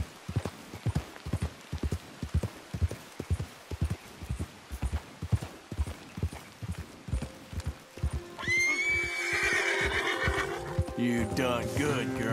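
A horse in a Red Dead Redemption 2 game gallops with a steady, close clip-clop of hooves, then the pace breaks off into a loud whinny and snorting near the end.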